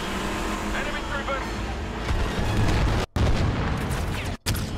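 Loud, dense roar of a cooling cell being destroyed in a Star Wars Battlefront 2 space battle, with booming blasts and sustained rumbling explosion noise over a few seconds, cutting out briefly twice.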